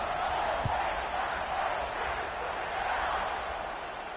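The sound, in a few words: football stadium crowd buzzing after a score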